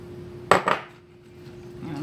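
A spoon clanks twice against a bowl while mixing spinach, Parmesan and cream cheese. The close, bright clatter is brief and followed by near quiet.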